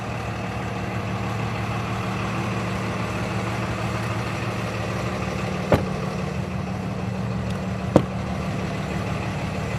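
A 2023 Freightliner M2 106 Summit Hauler truck engine idles with a steady low diesel rumble, unchanging and close, broken only by two brief faint clicks.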